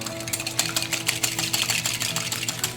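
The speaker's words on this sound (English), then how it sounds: "we're going to beat some egg yolks" Egg yolks beaten rapidly in a bowl, a steady fast rattling whisk or beater noise running continuously and fairly close, with no talking.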